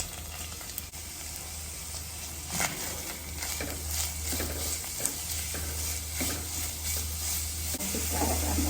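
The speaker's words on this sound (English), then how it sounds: "I am adding some onions to this." Onions sizzle in olive oil in a pan, a continuous loud frying hiss with a low steady hum beneath and brief stirring scrapes, no voices.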